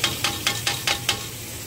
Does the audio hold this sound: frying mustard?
yes